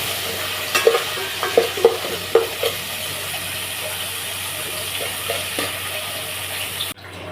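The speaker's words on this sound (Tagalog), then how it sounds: "Igisa na natin itong sardinas sa gulay mga kapato" Sardines and vegetables sautéing in a hot pan, a steady sizzling hiss with several sharp utensil scrapes and stirs near the start, continuing evenly before cutting off abruptly near the end.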